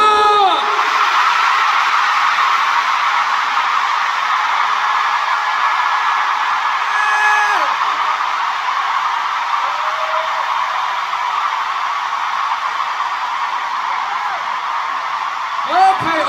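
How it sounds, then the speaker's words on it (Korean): A concert crowd of fans at a show screams and cheers at full volume in one loud, sustained roar, with a few higher shrieks rising above it. "다들 행복해지고 싶은 만큼 소리 질러!"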